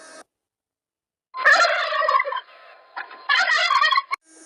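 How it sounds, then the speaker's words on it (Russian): A turkey gobbles in two loud, rapid, rattling bursts separated by a short gap, close to the listener, with silence before them. "Индюк кулдыкает."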